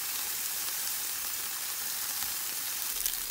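Tofu skin pan-frying under a lid over medium-low heat, a steady soft sizzle with no talk throughout.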